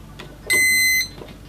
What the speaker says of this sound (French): Voilà, donc ça vient de biper.